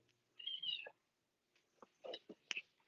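A cat gives a drawn-out meow, then after a pause several shorter, sharper cat cries follow, close and clear in a quiet room.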